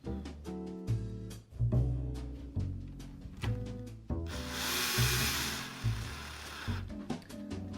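Screws being driven back into a SATA hard disk enclosure, short bursts of a small power screwdriver whirring with a brief hissing stretch in the middle, close and moderately loud.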